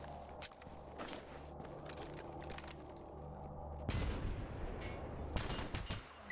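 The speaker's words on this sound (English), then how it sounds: "Now, you might have heard that gunfire starting." Enemy gunfire crackles in S.T.A.L.K.E.R. GAMMA as repeated shots and bursts ring out at a distance over a low ambient rumble, with a louder, denser stretch of firing near the end.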